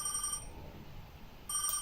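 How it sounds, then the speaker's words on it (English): A telephone rings inside an empty, dark house in a video game, two clear trilling bursts at the start and end with a quiet gap between, no talking. "A ringing sounded through the darkness, echoing through the soulless house."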